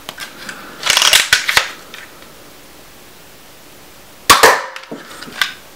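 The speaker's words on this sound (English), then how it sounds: "we'll be firing a variety of darts at them" A spring-powered single-shot Nerf pistol fires standard foam darts: sharp snapping shots with mechanical clatter in two bursts, separated by a quiet pause.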